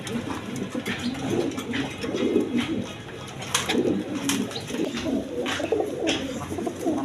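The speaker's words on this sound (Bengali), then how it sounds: "এখানে এক পেয়ার জ্যাকোবিন কবুতর আছে" A pair of red Jacobin pigeons coo in soft, repeated throaty bursts, close by and steady throughout, with no voices over them.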